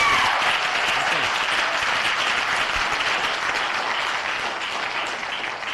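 Audience at a planning commission meeting applauding steadily and loudly, a dense wash of many hands clapping that holds throughout and tapers slightly at the end.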